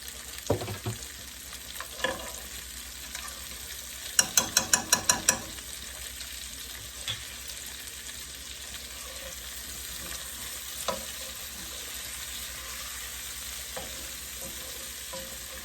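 Bell peppers fry in ghee or butter with garlic, giving a constant sizzling hiss, a rapid burst of clicking stir strokes near the start, and occasional scrapes and pops.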